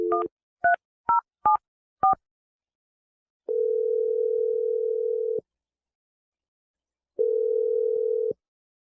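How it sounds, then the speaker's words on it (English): A telephone keypad dials five quick two-tone beeps, followed by two longer steady ringback tones separated by a pause, clean and isolated over silence. "I'm about to dial the phone number right now"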